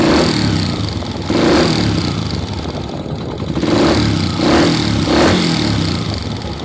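Honda TMX 125 motorcycle engine running with a valve-ticking fault, a steady close mechanical drone that rises and falls in a few revving swells, with fine ticking texture under the engine noise.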